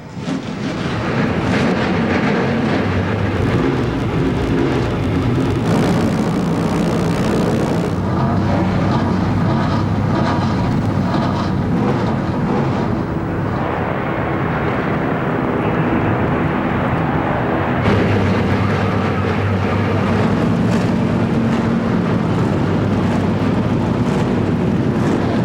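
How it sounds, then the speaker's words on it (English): Several ARCA stock car engines fire up and run at Daytona in 1996, a loud, continuous, dense roar that holds steady throughout with slight swells, no voices heard. "the drivers are in their cars, their engines are fired"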